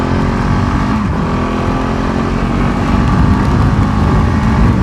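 A KTM 690 Enduro R single-cylinder motorcycle accelerating hard, its engine note loud and close as a dense, rising roar that fills the whole stretch without a pause.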